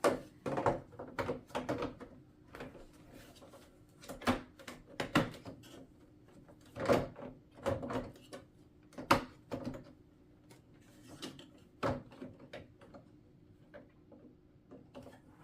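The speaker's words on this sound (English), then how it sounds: "you just push down until it's clipped into place" Plastic Barbie Dreamhouse roof pieces being pushed and snapped into place: a steady run of sharp, close clicks and knocks, some louder than others, spread irregularly over the whole stretch with no talking.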